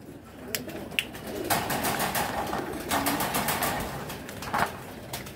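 Giribaz high-flyer pigeons of a navy lineage cooing faintly amid a continuous loft background, with sharp clicks and wing flutters scattered across the scene.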